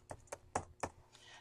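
Four quick, distinct keyboard taps sound close by, followed by quiet background noise.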